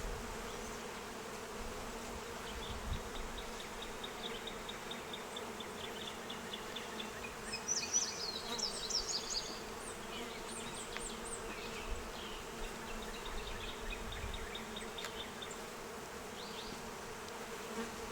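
Honeybees buzz steadily around an open beehive during an inspection with powdered sugar applied against varroa mites, a dense continuous drone with occasional louder passes of individual bees close by.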